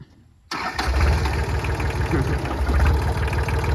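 A walk-behind tractor engine kicks in suddenly and then revs hard and close. It has a loud, throbbing, rapid chug that holds steady with small surges in throttle.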